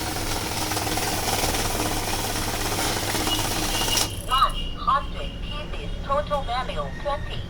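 An LT 6000 PRO currency counting machine whirs steadily as banknotes feed through it, a loud dense mechanical rush that cuts off abruptly partway, after which a person speaks over a quieter room.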